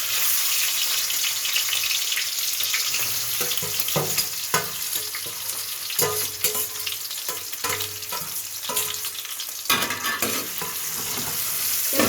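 Ingredients for a homestyle chicken curry frying in a pan, giving a dense, loud continuous sizzle broken by repeated scraping stirs, close up with no voices.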